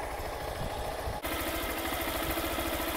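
A Honda CG 160 motorcycle engine idles nearby with a steady, even putter and a short dip in the sound partway through.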